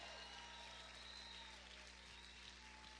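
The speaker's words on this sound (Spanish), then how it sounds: "¿Cuántos pueden gritar y aplaudir fuerte al Señor?" A church congregation claps loudly at a Spanish-language worship service, a steady wash of applause from many hands sustained throughout over a low constant hum, heard from some distance in a large room.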